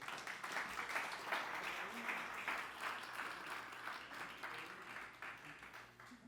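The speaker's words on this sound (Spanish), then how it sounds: "Denle un aplauso fuerte." Congregation in a church service breaks into a strong round of applause: many hands clapping together in a fairly quiet, steady swell that fades slightly toward the end, with no voice over it.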